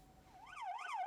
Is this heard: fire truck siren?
yes